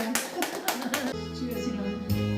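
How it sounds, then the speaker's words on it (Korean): A church congregation claps together during a worship gathering, several seconds of dense applause that gives way to sustained music. "박수!"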